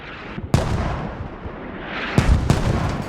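Mortar rounds slam down in Squad on a ruined logistics truck in a market area, three heavy booming impacts with rumbling tails, the first near 0.5 s and two more close together near the end, over steady battlefield ambience.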